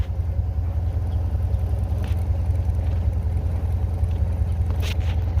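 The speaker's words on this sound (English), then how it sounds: "Now we're pulling the tractor, and we're going to rev up the engine a little bit and it'll go faster." A tractor engine idles with a steady, deep rumble while a Ramsey PTO winch pulls the tractor, and a few faint clanks sound over the continuous drone.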